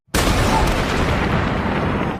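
Bomb blast in a prison in a film, a sudden loud boom that bursts in after a brief silence and sustains as a heavy rumbling roar for about two seconds.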